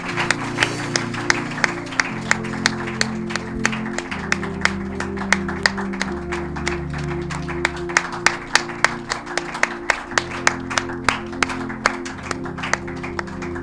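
A church congregation claps in a quick steady rhythm to welcome a minister, sharp rhythmic handclaps over sustained music and voices, with occasional louder accented claps throughout.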